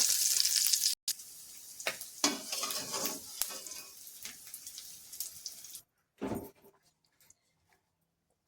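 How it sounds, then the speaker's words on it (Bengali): Prawns frying in oil crackle and sizzle close up, broken by stirring scrapes and clatter, then the sound drops out to near silence with one short final burst. "মাছগুলো ভাজা হয়ে গেছে, দেখো সুন্দর করে ভেজে নিয়েছি।"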